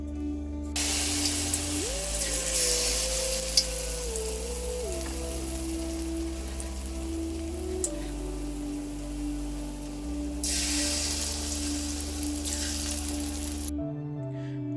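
Thankuni leaf fritters bubble and sizzle in white soybean oil in a kadai, a steady dense crackle running throughout with soft background music.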